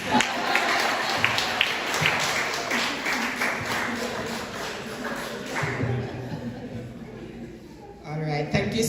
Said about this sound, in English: We were giving a round of applause for the entertainment